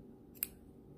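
A single quick snip of scissors through hemp yarn while finishing a crocheted gift bag, one short sharp click standing alone over a faint steady background hiss.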